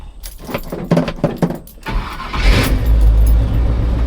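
A car engine, the one in an Iron Man project car, gets gas, catches and runs, rising from rattly cranking to a steady, loud idle rumble after about two seconds, with keys jangling near the start.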